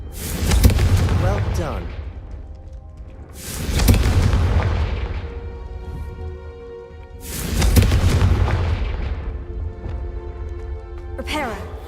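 Three heavy fiery blasts of the Confringo fire spell in the Hogwarts Legacy video game, each a loud boom that rings out and fades, spaced a few seconds apart, with brief speech between them.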